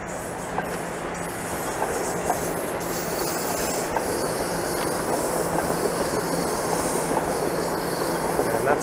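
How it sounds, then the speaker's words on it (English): A Toronto TTC subway train rolls past, a loud, steady rumble of wheels on track with faint clicking joints and hiss, heard close and continuous with no talking. "I think there's a train rolling through right now."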